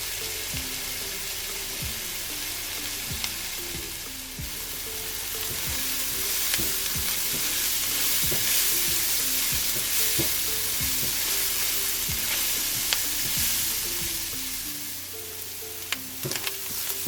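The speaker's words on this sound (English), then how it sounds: "We're going to allow this to cook until the onions are tender and slightly brown" Onions sizzle and fry steadily in a pan for vegan Arabian rice, a continuous close crackle broken by repeated scraping and stirring strokes, with no talking.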